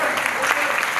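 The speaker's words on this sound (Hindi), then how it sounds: "जोरदार तालियां" Audience at a network marketing seminar bursts into loud, sustained clapping, a dense continuous wash of applause throughout.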